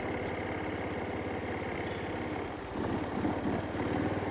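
Becane 33 Nejma motorcycle from 2024 idling close by, a steady pulsing engine putter that shifts slightly in pitch partway through, with no voices.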